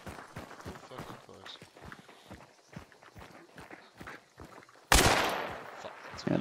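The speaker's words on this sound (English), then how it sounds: "Ooh, yeah, bounty team shooting." Distant bursts of gunfire from a bounty team in Hunt: Showdown crackle under rapid footsteps, ending with a sudden, much louder, close blast.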